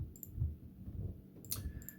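Typing on a new computer keyboard, a few sharp clicks of keys pressed close by, scattered unevenly over a quiet room hum while someone codes in Android Studio.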